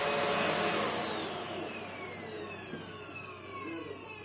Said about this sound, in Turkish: Ben de bunları da süpürdüm.